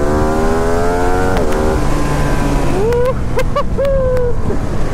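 A Ducati Streetfighter V2 naked superbike's engine hums steadily, then snaps through several quick, rising revs close by, with a constant rush of wind or road noise underneath.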